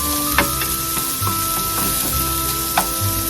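Onions sauté in a pan for macaroni soup, a steady broadband sizzle with a few sharp scraping clicks from stirring, close and continuous with a low hum beneath.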